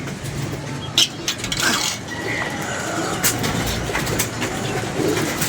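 Pigeons cooing in a low, steady murmur near an idling car engine, with a couple of sharp knocks and brief rustles breaking through at moderate distance.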